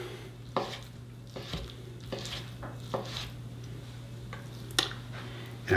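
A knife chops raw store-bought salmon into fine pieces for a spicy sushi roll, quiet irregular taps of the blade against a cutting board over a low steady hum.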